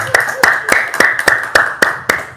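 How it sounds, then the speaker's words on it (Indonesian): Hands clap in a quick, even rhythm at an evening prayer gathering: about eight sharp, close claps in just over two seconds over a faint room background. "Tepuk tangan dong,"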